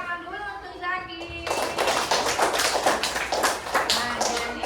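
Primary school pupils clapping together in class for a classmate, a loud burst of rapid, slightly uneven claps that starts after a brief spoken line and carries on with children's voices.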